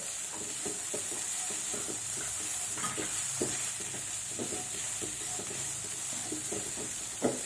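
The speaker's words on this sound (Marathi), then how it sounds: "तेलावरती चांगलं भाजून घ्यायचं आहे" Spice masala for traditional patvadi roasting in hot oil in a pan while being stirred, with a steady sizzle and scraping spoon strokes throughout, close up and with no talking.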